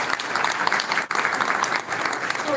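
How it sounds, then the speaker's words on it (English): An audience applauding steadily and loudly throughout, dense clapping at a live event with a brief dip partway through. "You can clap for each of them."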